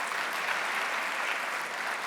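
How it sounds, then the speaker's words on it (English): Brief, dense round of applause from the audience at a county State of the County address, welcoming a new office manager; even and continuous from start to finish. "Give her a round of applause."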